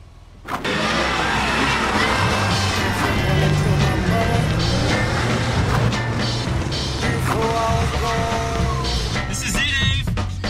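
A car engine roars and revs hard as the car peels out, tire squeal and screeching over a steady loud drone, continuing for several seconds.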